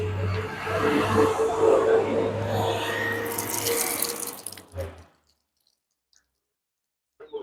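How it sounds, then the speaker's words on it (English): Rice being washed in water outdoors at Buff Bay, Jamaica, with close sloshing, splashing and swishing for about four seconds, then a final splash and near silence. "So we wash rice."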